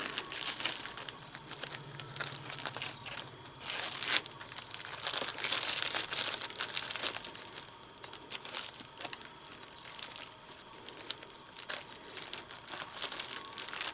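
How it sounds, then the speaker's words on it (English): Ribbon being tied into a simple bow on top of a small gift bag for a hot chocolate kit, with close, continuous crinkling and rustling of the bag material and short louder crumples, no talking. "Now I'm just going to tie a simple bow on the top of my little bag here."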